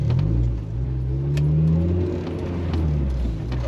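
A Honda Civic EG5 with a swapped, tuned Integra Type R engine revs up and down nearby, a deep rumble rising and falling over a few seconds.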